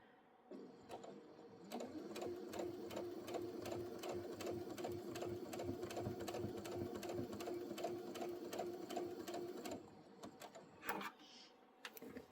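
A sewing machine stitches snail trail quilt pieces for a little mermaid quilt, a rapid steady mechanical whir and rattle running for about eight seconds, close by, then stopping with a few clunks.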